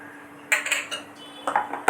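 A spoon stirs locho batter mixed with Eno fruit salt in a bowl, giving a few quick, close clinks and scrapes against the bowl in short bursts with quiet gaps between them.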